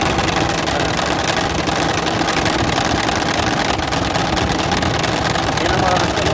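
A Nissan Pathfinder's engine cooling fan roars loudly while the engine runs, a constant dense whooshing drone with engine hum beneath it and someone talking over it.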